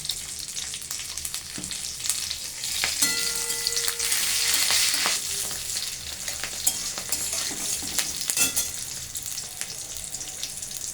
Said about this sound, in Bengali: কাঁচা লঙ্কা আমি চিড়ে দিয়ে দিলাম এর মধ্যে এখন এক চামচ মাপে পাঁচ ফোড়ন দিয়ে দিলাম